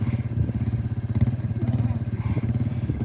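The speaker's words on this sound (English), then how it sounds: "It's just that sudden revving that freaks her out." An engine nearby putters and revs with a rapid, pulsing low drone like a motorcycle, steady and fairly loud around a horse being trained, with faint talk in the background.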